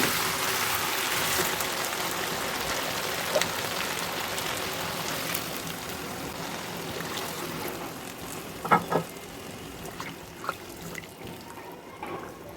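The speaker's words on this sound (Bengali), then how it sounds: "এখন আবার নতুন করে পানি দিয়ে আমি মাংসটা কষিয়ে নেব।" Beef simmering in a pot for haleem after fresh water is added, a soft continuous bubbling and watery hiss with a few light clinks near the end.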